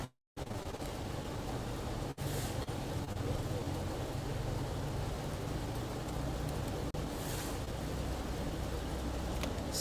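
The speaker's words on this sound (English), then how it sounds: "Rainy season is now." Monsoon rain falls steadily in Laos as a dense, continuous hiss, loud and close, holding evenly throughout after a brief silent start.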